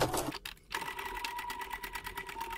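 A sewing machine stitches a dense seam of cut-out embroidery onto a crazy-quilt pot cover, running slowly and steadily after a brief pause, its rapid needle rhythm close and clear with no talking.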